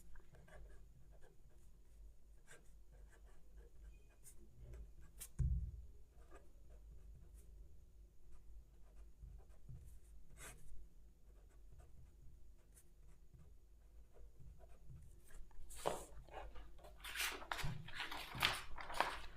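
A pen or chalk scratching out a differential equation in a maths lesson makes faint, intermittent strokes and taps over a quiet room hum, busier toward the end.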